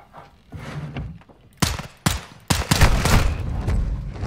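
Gunfire in the Modern Warfare 2 (2022) campaign: after a quiet stretch, sharp close shots crack out, two single reports followed by a louder burst with heavy rumbling echo.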